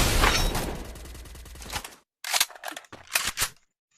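Bursts of gunfire from the Free Fire battle-royale game: a dense rattling volley for about two seconds, then a pause and several shorter sharp bursts, fairly loud and close.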